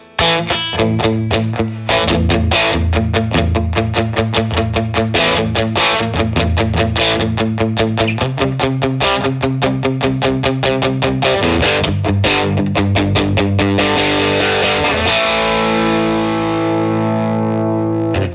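Distorted electric guitar through a Universal Audio Ruby pedal plays a driving riff with chords and single notes, loud and steady throughout, with a bright effected tone and no talking.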